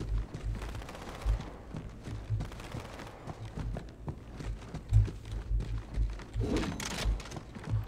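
Quiet bursts of gunfire in Halo 2, scattered and uneven, low in level against a busy game background, with a louder crackle near the end and no talking.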